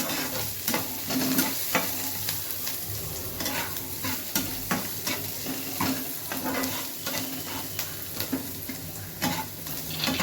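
White sauce pasta being stirred in a pan on high flame, repeated scraping strokes of a spoon over a continuous soft sizzle, close and moderately loud, with no voices.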